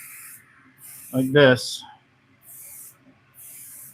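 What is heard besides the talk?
spray painting along a gun pick rail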